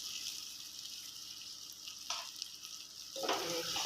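Potatoes frying in a pan, a soft continuous sizzle with a brief scrape near the middle and a louder burst of crackling toward the end, no talk.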